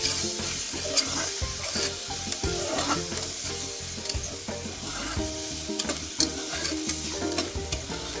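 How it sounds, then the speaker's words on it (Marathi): Fried paneer and its oil added to a pan for hotel-style paneer tikka masala, sizzling loudly and steadily with a spoon stirring and scraping in irregular clinks up close. "आता याच्यामध्ये पनीर तळून घेतलेलं ते टाकायचं. त्यातलं तेलही टाकायचं त्याच्यात."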